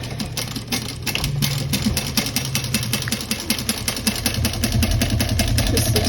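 Sewing machine running steadily as it stitches across the top seam of a small bowler bag, a fast even mechanical chatter that is close and loud, with no talking.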